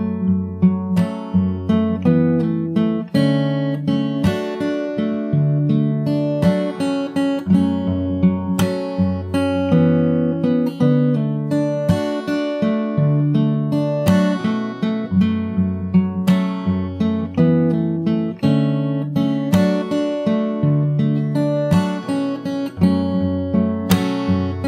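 Fingerstyle acoustic guitar plays a pre-chorus with percussive body taps, steady plucked notes and regular hits running continuously throughout, with no talking.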